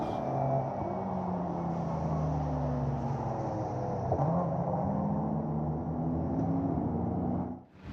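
Race cars roar past on the Virginia International Raceway circuit during an endurance race, the Thunder Bunny Toyota Supra among them, engine notes rising and falling as they pass close and loud, with a steady drone of other cars underneath.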